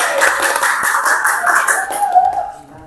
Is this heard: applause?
yes